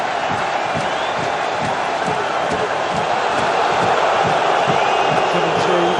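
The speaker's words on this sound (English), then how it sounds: "Got the crowd going again" Rugby crowd at the European Champions Cup final between Racing 92 and Saracens, a dense continuous roar of cheering spectators filling the stadium at steady loudness throughout.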